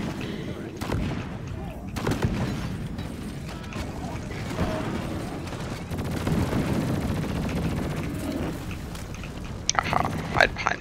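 Gunfire in the video game Deep Rock Galactic, aimed at heavily armored enemies: loud bursts and sharp impacts over mechanical clatter and creaking, with a dense cluster of shots near the end.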